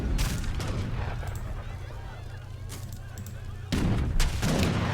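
Cannons and musket volleys from an Age of Empires style real-time strategy match pop and boom in quick bursts, loudest toward the end, over a low rumble with commentary running beneath.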